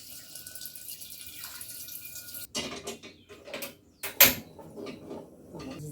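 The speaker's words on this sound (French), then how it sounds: "je prends l'eau du robinet" Water runs from a kitchen faucet, a soft hiss that breaks off abruptly and gives way to splashing and clatter at the sink, along with a few louder knocks.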